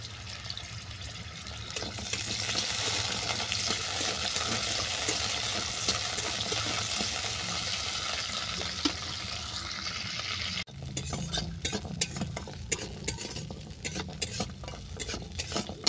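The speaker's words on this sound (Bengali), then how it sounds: "তেল গরম হয়ে যাওয়ার পর দিয়ে দিচ্ছি কাঁঠালের দানা। দানাগুলোকে ভেজে নেব।" Jackfruit seeds frying in a small amount of hot mustard oil, with a continuous close sizzle and repeated scraping and clinking of a spatula stirring in the pan. The stirring turns sharper and more broken later on, with no talk.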